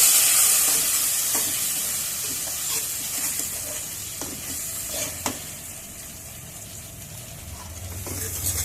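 Spice paste of ground coriander, chilli, cumin and ginger sizzling in oil with a bay leaf, with steady frying hiss and occasional scraping stirs of a spoon, fairly soft and close.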